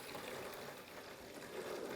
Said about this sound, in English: just get the air out of these taps